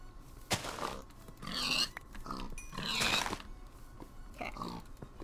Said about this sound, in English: There's so many pigs.